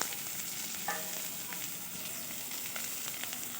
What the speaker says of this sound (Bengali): পেঁয়াজ দিয়ে দিলাম, পেঁয়াজ কুচো।